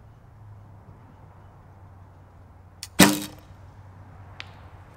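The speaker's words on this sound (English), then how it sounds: "I'm shooting these arrows as good as I possibly can." An arrow shot from a bow at a target, a single sharp, loud crack midway with a quick decay, preceded by a faint tick and followed by a softer tap, against quiet background.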